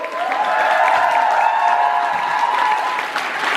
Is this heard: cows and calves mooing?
no